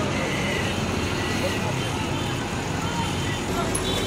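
A long bus on a Karimpur to Kolkata road journey overtaking another bus near Nazirpur: a steady engine drone and road rumble that continues without a break, with constant background noise and muffled talk inside.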